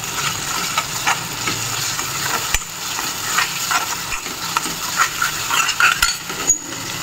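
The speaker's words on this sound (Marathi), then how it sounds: "कांदा टमाटर दोन्ही फ्राय झालेले आहेत." Onion and tomato fry in a pan with a crackling sizzle while a spoon stirs and scrapes them, with a couple of sharp metal knocks; close and moderately loud, no speech.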